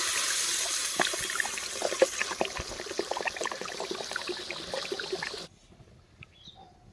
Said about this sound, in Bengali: এখন আমরা ঝোলের জন্য পরিমাণ মতো জল দিয়ে দেবো